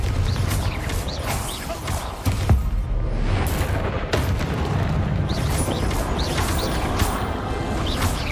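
Fire spell explosions in the video game Hogwarts Legacy, a dense barrage of crashing booms and bursts layered over constant loud battle noise, with several sharp impacts standing out.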